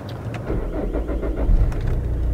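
A Vauxhall Vectra estate engine catches and settles into a rough, close idle, the low rumble rising slightly partway through, with no voices.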